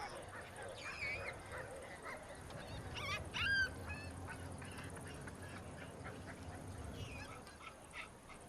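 A dog living among baboons in their rocky primate territory yips and barks in short, scattered bursts amid outdoor ambience and animal calls, moderately close.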